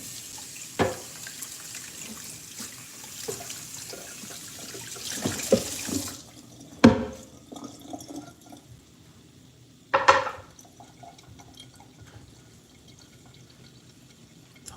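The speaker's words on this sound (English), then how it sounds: "Let's wash up our cutting board." Tap water runs into a sink while a cutting board is washed, a steady gentle stream broken by several louder splashes and clatters as the board is handled, with no talking.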